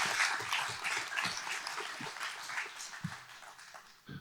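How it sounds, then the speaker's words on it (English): An audience at a city candidate forum applauds, a dense, continuous wash of clapping from many hands that holds steady for several seconds, moderately loud and heard from within the room. "Now you can applaud."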